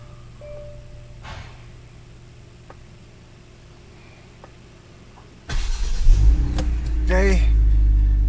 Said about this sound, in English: okay, car starts.